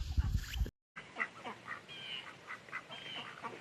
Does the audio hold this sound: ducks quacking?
yes